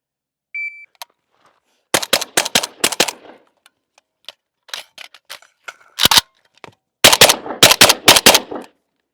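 A Galil ARM rifle fires in rapid pairs during an El Presidente drill, opening with a start beep and ending in sharp, loud close-range bursts of shots broken by a short reload pause.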